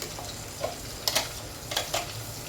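Ginger garlic paste goes into a pan of sautéed onions, producing a soft, steady sizzle with a few sharp ticks and clinks from stirring, close and fairly quiet.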